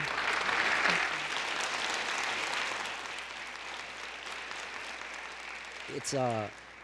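An audience applauds the speakers at the end of a panel discussion on police violence in the community. The clapping is sustained and moderately distant, then fades, and a brief voice comes in at the end.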